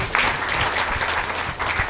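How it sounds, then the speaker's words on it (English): Audience applause for a speaker at an East African youth agri-food trade fair and expo, a sustained, loud wash of clapping from a large crowd for the whole span. "Round of applause for Cosmas."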